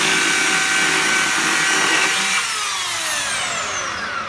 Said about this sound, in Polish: chciałem pokazać taką piłę elektryczną do prostych prac ręcznych